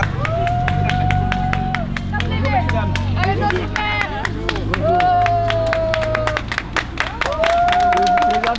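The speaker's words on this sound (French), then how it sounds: "Applaudissez, applaudissez." An audience at a tribute ceremony for the tirailleurs applauds steadily, dense crowd clapping sustained throughout with murmuring voices and occasional whistles mixed in.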